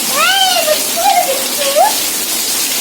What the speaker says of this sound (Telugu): వర్షం పడుతుంది కదా మరి, మొక్కలు తడిచిపోతున్నాయి కదా